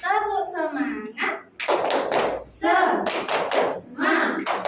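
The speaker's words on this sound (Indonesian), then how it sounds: "ayo kita tepuk semangat" A classroom doing the 'tepuk semangat' rhythmic clap, bursts of hand claps alternating with children and a teacher chanting aloud, close and lively.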